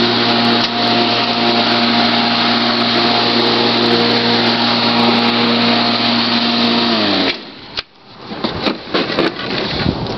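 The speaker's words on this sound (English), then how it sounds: "Really nice little mower." A small walk-behind lawn mower with a rear bag runs at a steady, loud drone for about seven seconds, then cuts off abruptly, leaving scattered clatter and handling noises.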